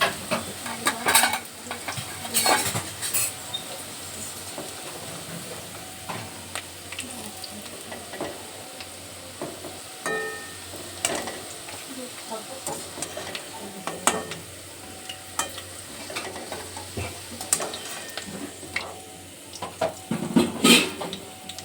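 Fried cashews are scooped out of a frying pan, with a utensil clinking and scraping against the metal over a steady oil sizzle, in close, irregular bursts.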